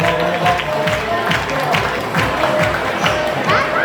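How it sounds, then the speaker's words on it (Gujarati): A crowd applauds a donor at a Varia family community education ceremony, steady clapping and crowd noise filling the whole stretch with faint voices underneath. "તાળી પાડો ભાઈ દાતાની"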